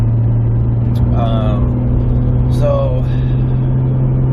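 A Toyota MKIV Supra cruises along with a steady, loud low engine drone and road rumble, while a voice speaks briefly over the constant drive noise.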